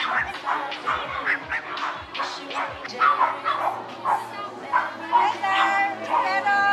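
Several dogs bark and yip in repeated bursts, close by and loud, some sharp and high, with people talking over and between the barks.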